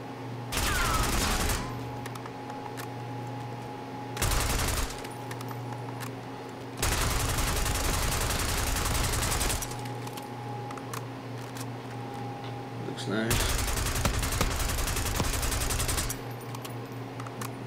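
Sustained automatic bursts from an AK74 rifle in a video game, four loud sprays of gunfire separated by short pauses over steady game background hum.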